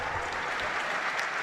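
Applause from staff at an end-of-year retreat and awards ceremony as an ambassador is introduced, a steady dense wash of clapping filling the moment without pause.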